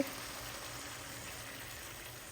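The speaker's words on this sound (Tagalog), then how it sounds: "ilalagay ko na po itong tubig" Water poured into a pan of pancit bihon on the stove, a steady soft bubbling and hissing fill throughout, faint and continuous with no voices.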